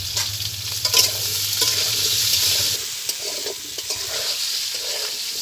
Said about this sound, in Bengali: এটা আমি ভালো করে ভেজে নেব